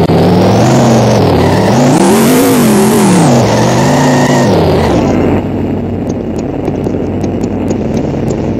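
Loud car engine revving and accelerating while driving in The Simpsons Hit and Run, the pitch rising and falling through gear changes before the roar drops to a lower hum with ticking clicks.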